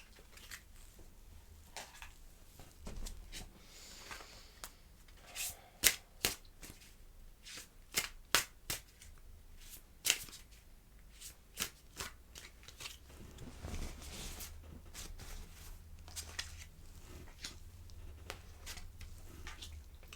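Tarot cards being shuffled and laid out for a monthly reading, with soft crisp riffling and a series of distinct card snaps and taps spread across the stretch, close by and fairly quiet, no talking.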